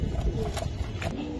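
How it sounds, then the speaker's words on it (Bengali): Soft pigeon coos at a pigeon sale with red pigeons on offer, a low, murmuring burble under market background noise with a faint voice in it. "এই যে লাল টকটকা কবুতর দেখতেছেন আপনারা ভাই"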